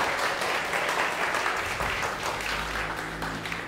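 A church congregation applauds during a Christmas Eve service, a dense, continuous wash of clapping from many hands that stays loud and steady throughout.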